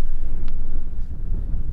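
Wind gusts across an exposed hillside near Hartside, loud rumbling buffeting against the microphone with a chilly, blustery character and no voices.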